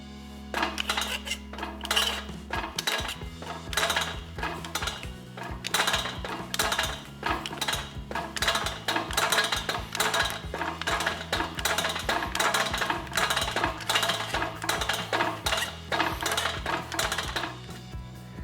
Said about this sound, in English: I'll curve this to match the template by shrinking the wide flange.